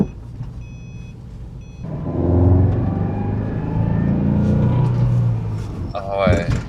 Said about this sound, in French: quand on décolle, il n'y a plus de misfire sur l'auto.